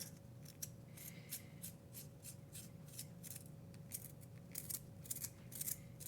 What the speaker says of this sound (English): So the Pollux will chew your pencils up.